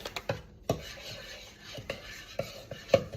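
Chocolate biscuit base mixture stirred in a bowl for a choc peppermint slice, with intermittent scraping and clinking knocks of a utensil against the bowl, fairly quiet and close, with no talking.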